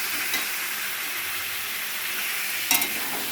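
Mutton with pre-fried potatoes sautéing in a pan, giving a steady close sizzle with a brief louder scrape of stirring near the end; no one speaks.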